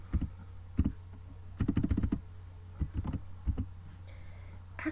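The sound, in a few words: typing on a computer keyboard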